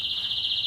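A captive-bred canary sings a short, sustained high-pitched trill, a bright steady tone heard on its own, close and clear.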